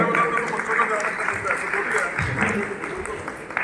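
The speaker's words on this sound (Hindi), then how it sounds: "तालियां बजती रहनी चाहिए जोरदार" An audience applauds at a Punjabi community stage event in Bikaner, a steady wash of clapping that runs throughout while a voice talks over it.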